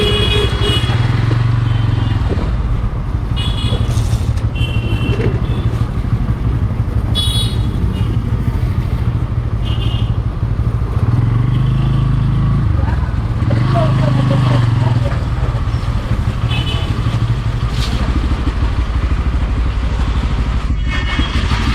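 A motorcycle engine idles close by, a steady low rumble that swells and eases as the bike is moved and parked at the roadside, with speech over it at times.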